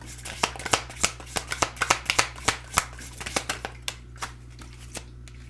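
Tarot cards get shuffled and tapped by hand close to the mic, a string of sharp papery snaps in an uneven rhythm that thins out toward the end over a steady low background hum.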